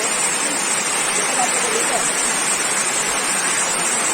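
Water rushing steadily down the Ubbalamadugu waterfall, a constant broadband roar that fills the scene evenly and close by, with no break for the full duration.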